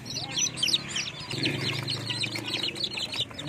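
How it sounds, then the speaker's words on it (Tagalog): Rhode Island Red chickens cluck and chirp softly and continuously nearby, many small calls overlapping with a low murmuring undertone. "Rhode Island Red."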